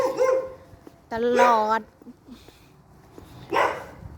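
A village dog lets out a single sustained, whining bark between stretches of someone talking nearby. The dog is clear and fairly close.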